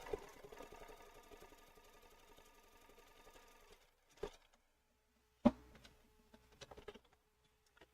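A sewing machine stitches in a steady mechanical whir for about four seconds, couching ribbon down onto fabric, then stops, followed by a few faint clicks and handling knocks.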